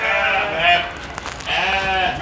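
Sheep bleating shortly after giving birth on a farm: two drawn-out, wavering bleats, close and fairly loud, separated by a short pause, with no talking.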